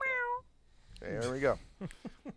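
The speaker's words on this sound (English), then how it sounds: "and that's a cat." A cat gives one drawn-out meow, close and clear. A person speaks briefly before it and short bursts of voice follow.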